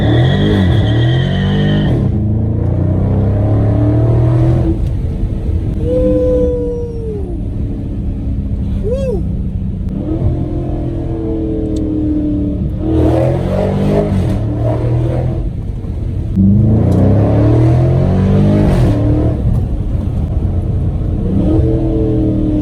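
A 2020 Dodge Challenger 392 Scat Pack launching with traction control fully off, its V8 engine revving loudly in repeated surges with rising and falling pitch, alongside fainter tire and exhaust noise.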